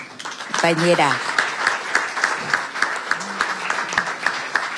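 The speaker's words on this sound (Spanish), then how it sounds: "Pido para Melissa Merlo un aplauso" Applause for the writer Melissa Merlo at a Spanish Language Day celebration, a brief spoken voice at the start giving way to scattered, moderately loud claps from a modest crowd, with a tonal whistle-like sound running beneath.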